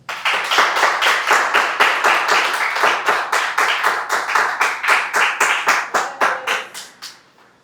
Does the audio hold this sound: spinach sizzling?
no